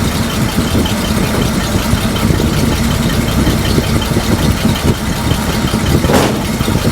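A 1941 Chrysler flathead engine in a coupe idles steadily and close up, a continuous low rumble with a slight rocking unevenness that may hint at aging ignition wires, running alone without voices.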